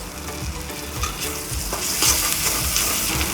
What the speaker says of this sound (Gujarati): પછી આને થોડુંક તળવા દેવાનું